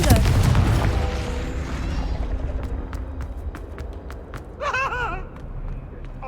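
The Confringo blasting spell in Hogwarts Legacy goes off as a loud, booming explosion that rumbles and fades over several seconds, followed by faint crackles and a character's brief strained vocal cry.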